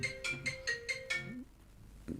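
A telephone rings in a repeated electronic ringtone pattern of about five short bursts, fairly clear and near, then stops into quiet room sound during a live question-and-answer session.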